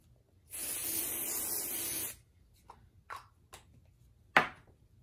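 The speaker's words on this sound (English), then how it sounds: "Just spray there too, to make sure it gets caught." A single sustained aerosol spray hisses for about a second and a half, followed by a few soft handling taps and a sharper rustle.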